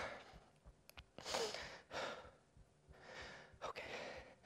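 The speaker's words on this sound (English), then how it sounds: "quick 10 second pause for me to catch my breath" Heavy, effortful breathing after jump rope exercise: a series of loud, close gasps and sighing exhales, uneven in rhythm, with no talking.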